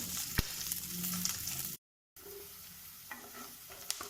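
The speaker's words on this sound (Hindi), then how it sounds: "अब डालेंगे हम इसमें प्याज, इसको सौते करेंगे ट्रांसलूसेंट होने तक" Chopped onions sauté in a pan with a soft, steady sizzle, broken by scraping stirs and a few sharp clicks of a utensil, fairly quiet and close, with a short silent gap midway.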